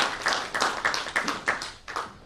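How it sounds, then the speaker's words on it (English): Audience applause after a speech at an event on advancing United States and India relations, with a steady rhythm of individual claps at moderate loudness and no voices. "So let's give them a big round of applause."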